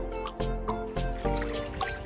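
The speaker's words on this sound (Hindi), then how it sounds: "अभी मैं यहाँ से पानी भर के पीने वाला हूँ" A bottle is filled with clear stream water on a monsoon trek to Rajmachi Fort. Close gurgling and splashing come in short pulses over a steady pouring sound.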